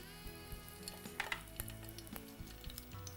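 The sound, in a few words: green chilies frying in hot oil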